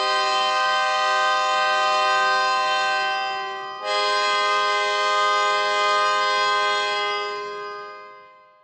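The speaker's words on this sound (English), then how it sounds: "just some natural harmonics on the instrument." Sustained natural harmonics on strings from the Fire Strings sample library, a bright, steady tone rich in overtones that briefly breaks off and restarts, then fades out at the end.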